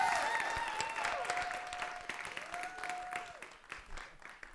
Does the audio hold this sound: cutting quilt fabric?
no